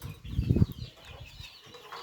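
Racing pigeons in a farm loft give a brief burst of low cooing and rustling near the start, then settle into quieter murmuring and faint movement.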